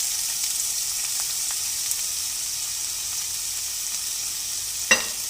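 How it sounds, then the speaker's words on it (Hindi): Vegetables sautéing over high heat in oil with chopped garlic in a wok, a steady, even sizzle throughout with a brief clatter of stirring near the end. "अब मैं इसमें वेजिटेबल्स डालूंगी सारी और इनको फ्राई करेंगे।"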